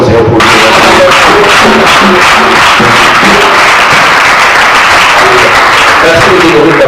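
A church congregation claps loudly and steadily throughout, dense and close, with voices and cheering mixed into the applause.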